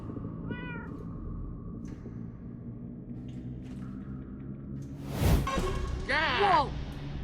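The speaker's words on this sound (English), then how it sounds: "Cats?" Cats meow in Minecraft: Story Mode, first a short high call early on, then a louder cluster of several meows near the end over a steady low game-music background.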